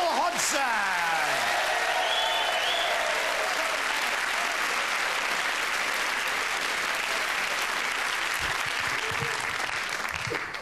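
Sustained audience applause welcoming comedian Wil Hodgson onto a stand-up stage in Edinburgh, a dense steady wash of clapping with a brief voice at the start, holding level for about ten seconds.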